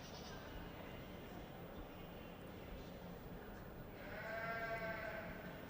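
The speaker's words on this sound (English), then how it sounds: "So 2 to 3-year-old Nigerian goats, dairy goats." A Nigerian dwarf dairy goat at a youth agricultural goat show gives a single drawn-out bleat near the end, rising above a low, faint crowd hubbub in a large indoor space.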